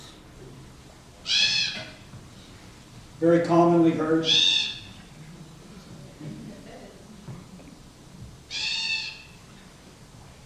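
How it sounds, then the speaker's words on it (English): Crows giving hungry yell calls near food they cannot reach: three loud, harsh bursts of calling, the longest in the middle, with a person talking briefly in between. "When birds are around food and they can't get at it, they're hungry, they'll give these yell calls."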